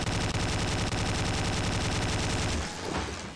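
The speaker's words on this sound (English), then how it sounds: "Let's finish him off with a gun" Rapid automatic gunfire from a gun in the video game Slendytubbies 3, a loud, dense stream of shots that runs steadily and then stops abruptly near the end.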